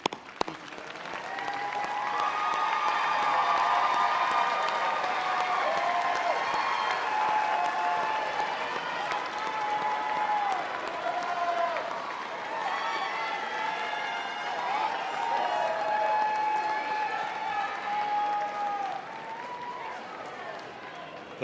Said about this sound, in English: let's turn and give them a round of applause